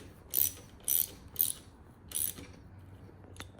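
A hand ratchet clicks in four short bursts while tightening the rear brake lever on an electric bike, crisp and close with quiet pauses between.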